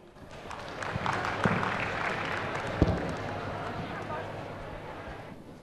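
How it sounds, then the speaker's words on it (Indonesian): Crowd applause after a Tari Guci dance by primary school pupils from Bumi, Central Java, at a Tegal regency event, a fairly faint, steady wash of clapping that swells and fades with a few sharper claps. "Dan beri tepuk tangan untuk persembahan terakhir tari Guci dari SD wilayah Kecamatan Bumi, Jawa Tengah"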